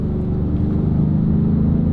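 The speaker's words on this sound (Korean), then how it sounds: "액티브 사운드가 켜지면서 배기음을 확실히 좀 더 느낄 수가 있죠." A Kia Mohave V6 in sport mode plays its exhaust note through the cabin's active sound speakers, giving a deep, steady engine hum with a low throb that stays fairly loud and even throughout.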